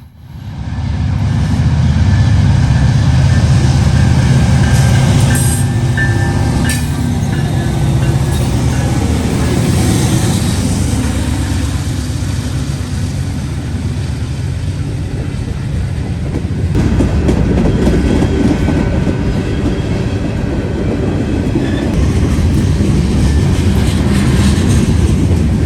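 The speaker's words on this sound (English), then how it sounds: "NS Train 170 comes screaming uphill with an SD-70 Ace and an AC-44C6M in full throttle" Norfolk Southern Train 170 climbs a grade with an SD70ACe and an AC44C6M at full throttle, a third dead unit in tow; loud, sustained diesel roar with rail clatter running steadily close by throughout.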